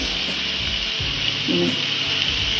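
A spice tempering sizzles in hot oil in a pan for a potato and green bean curry, a steady bright hiss up close with a faint murmur of voice and low kitchen clatter underneath.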